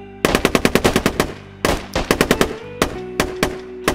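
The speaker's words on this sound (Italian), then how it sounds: "se fanno casino questi AK" Rapid bursts of AK rifle fire in the video game Squad, loud and close, in several quick volleys with brief gaps between them.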